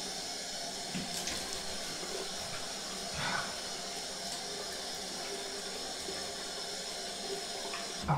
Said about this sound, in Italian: Acqua bollente.